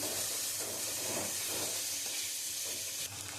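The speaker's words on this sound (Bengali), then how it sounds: "আর পেঁয়াজটা একটু লাল লাল করে ভেজে নেব।" Sliced onions with ginger fry in a pan until reddish, giving a close, steady hiss and sizzle with faint stirring that fills the whole stretch and dips slightly near the end.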